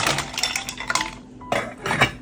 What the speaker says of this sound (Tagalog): ito pinapakuluan ko kaya naman ilalagay ko na rin yung tahong